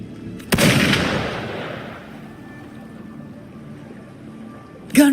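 Gunfire in the video game Wuthering Waves, a single heavy booming shot with a long rumbling decay, followed several seconds later by another sharp blast.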